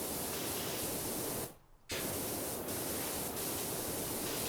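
A pressure washer sprays in PowerWash Simulator, giving a loud continuous hiss that briefly drops out for a moment before resuming at full strength.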